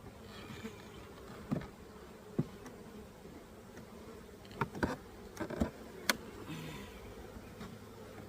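Honey bees swarm and buzz around an open backyard hive during a spring check, a steady close droning hum with occasional louder passes of individual bees near the ear.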